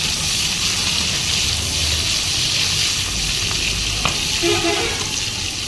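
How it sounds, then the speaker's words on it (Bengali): Chopped onion and green chillies crackle in hot frying oil, a loud continuous close sizzle with occasional sharper pops and one brief clink near the end. "কাঁচা লঙ্কা আর একটা পেঁয়াজ কেটে রাখা পেঁয়াজ লঙ্কাগুলো খুব ফাটছে"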